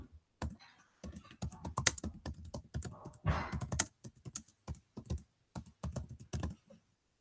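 Close, quick computer keyboard typing as assignment instructions are entered in Google Classroom: bursts of irregular clicking keystrokes with brief pauses, no voices.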